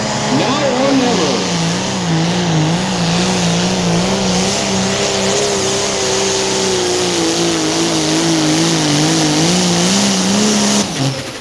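A loud, sustained turbocharged pulling-tractor engine roar at an 8,500 lb class tractor pull in Mound City, Missouri, with a high turbo whine, holding a strained pitch throughout before cutting off abruptly at the end.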